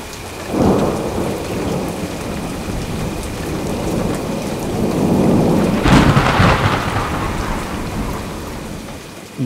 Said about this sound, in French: l'orage me réveille.